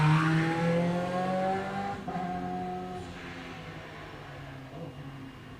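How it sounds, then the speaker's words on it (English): An OMS race car engine drones at a sprint event as it warms its rear tyres, a steady high-pitched whine that slowly fades with distance, heard outdoors with no talk. "I think that'll be John Bruce getting the OMS rear tyres warmed up"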